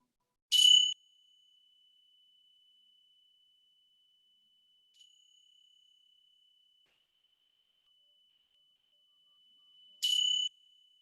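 Bells rung at the close of a yoga relaxation, two bright metallic strikes about ten seconds apart, each leaving a long, steady, pure ringing tone that hangs in an otherwise quiet room.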